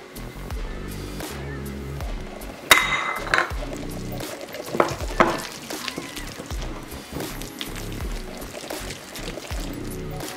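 A marinade mixture is stirred in a pot, with clinks and scrapes of a utensil against metal and some liquid sloshing, fairly close and intermittent.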